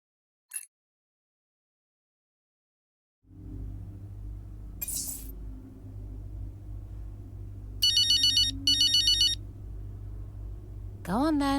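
Phone ringtone in an F1 23 video game cutscene: two short bursts of a bright electronic ring over a low room hum and music bed, following a brief glassy clink and a swell of background sound.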